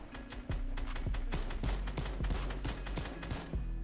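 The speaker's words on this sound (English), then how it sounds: "We got sniped at from somewhere." Gunfire crackles through a Fortnite-style battle royale match, a dense run of sharp cracks and booms with one sniper rifle shot somewhere in it, loud and continuous with no talking.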